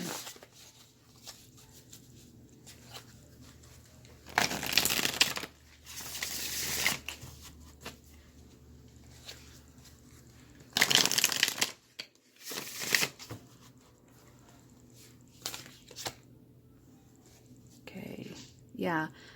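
Tarot cards are shuffled in several quick riffling bursts between stretches of quiet, with soft slaps and handling noises and a voice speaking in between.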